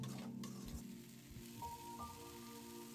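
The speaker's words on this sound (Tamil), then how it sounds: "எண்ணெயிலே வதங்கட்டும் மிதமான தீ வச்சுக்கோங்க" Curry leaves sautéing in oil over medium heat for a baby potato and meal maker gravy, a steady close sizzle with soft crackles and a few stirring scrapes, no talking.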